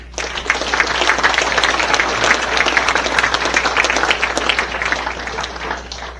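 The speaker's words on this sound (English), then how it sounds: "they all deserve a round of applause too" Dense, steady applause from the crowd at a baseball hall of fame induction ceremony, sustained for several seconds before tapering off, with a low hum beneath.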